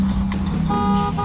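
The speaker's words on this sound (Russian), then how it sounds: "Нервный мужчина вернулся за руль и снова сигналит." A car horn sounds in a Russian street traffic confrontation as a nervous driver back behind the wheel honks again, a steady horn tone emerging over loud engine and road noise.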